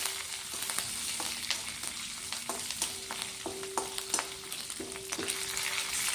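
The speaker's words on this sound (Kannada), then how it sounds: "ಸ್ವಲ್ಪ ಬೆಳ್ಳುಳ್ಳಿ, ಹಸಿಮೆಣಸಿನ್ಕಾಯಿ, ಸ್ವಲ್ಪ ಕರಿಬೇವನ್ನ ಹಾಕಿ ಹುರಿತಾ ಇದ್ದೀನಿ." Garlic, green chillies and curry leaves fry in a pan for a bottle gourd buttermilk sambar, giving a steady close sizzle with occasional stirring scrapes and crackles, and nobody speaking.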